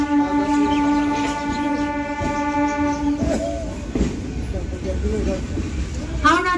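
A Howrah–Bandel local train at Bandel station sounds a long, loud horn for several seconds, then rumbles and clatters while people talk nearby.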